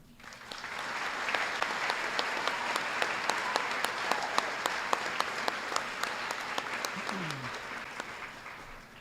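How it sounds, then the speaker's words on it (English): Sustained applause from a graduation ceremony audience fills the hall steadily, with sharper individual claps standing out and a brief voice heard faintly near the end. "Please hold your applause until everyone is standing."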